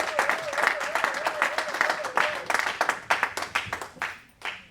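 A church congregation breaks into loud, rhythmic clapping and applause close by, with a sustained wavering vocal tone riding over the first half before the claps thin out toward the end.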